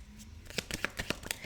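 A deck of cards being shuffled by hand: several quick riffling bursts in an irregular rhythm, close and crisp, with no one speaking.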